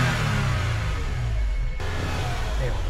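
A used car's engine revving at a dealership lot, a loud steady mid-range drone held for a few seconds with a slight shift partway through.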